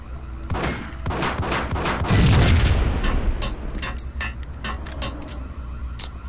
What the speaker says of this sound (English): I still hear more explosions